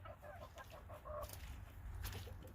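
Hens in a coop with a chicken composting system cluck softly in short, overlapping calls at low volume over a steady background hum.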